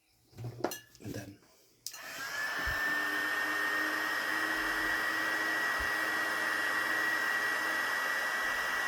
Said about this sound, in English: There is very hot air coming out, which makes the shrinking tube shrink